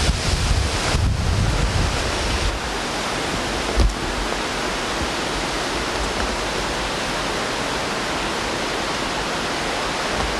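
Hurricane Bob storm surge water rushes and roars in a steady, dense wash, with wind buffeting the microphone, loud and continuous throughout.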